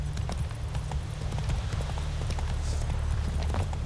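Hooves of Roach, the horse in The Witcher 3, clip-clopping at a fast gallop in a steady drumming rhythm, loud and close over low game ambience.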